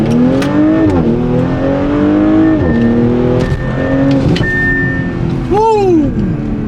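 An Audi S5 accelerates hard through several gears, the engine note climbing and dropping at each shift, loud and close from inside the car.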